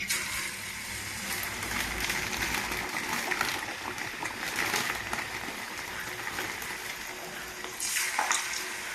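Lentil crackers (pappu chekkalu) frying in hot oil, a continuous crackling sizzle with occasional louder splutters as pieces are dropped in one at a time.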